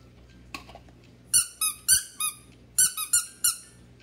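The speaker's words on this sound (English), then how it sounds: "Has a cute little piggy charm that squeaks" Squeaky piggy charm on a slime toy from Kawaii Slime Company, giving a run of high, bright squeaks in two quick clusters, about seven in all, close and clear over faint room hiss.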